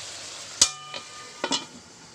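A metal lid clanks onto a pot of home-style chicken and potato curry with the meat cooking inside: one sharp clink, then a few softer knocks over a faint sizzle.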